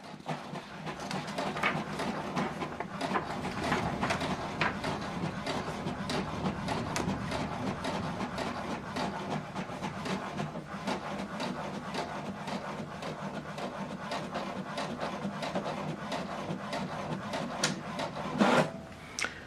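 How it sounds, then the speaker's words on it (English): An HP Deskjet 2820e printer prints a single-sided document sent from a laptop, giving a continuous close mechanical whirring with rapid rhythmic scratchy clicks as the page feeds through. "we're going to print this document one page instead of double-sided"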